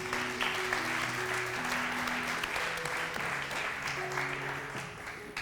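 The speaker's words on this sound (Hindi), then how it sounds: "बहुत सारी तालियों में आयमा मोहम्मद नदीम।" A TV studio audience applauds during a televised Ramazan debate show, a dense steady clapping wash running throughout while musical tones play underneath.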